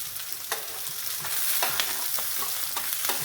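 Prawns in their shells sizzle steadily in hot oil in a pan for a seafood paella, with a close, dense crackle and occasional scraping stirs; no talking.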